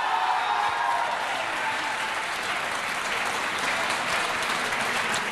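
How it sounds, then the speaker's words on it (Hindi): A studio audience at a Hindi television news debate applauds, a steady, bright, even wash of many clapping hands sustained throughout at close range, with no talking over it. "बजाइए ताली एक बार अपने लिए।"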